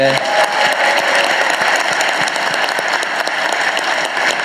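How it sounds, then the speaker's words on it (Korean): Loud, dense applause from a large audience at a town hall meeting in Cheongju, North Chungcheong, sustained and even throughout with a brief voice at the very start. "박수 한번 보내주십시오."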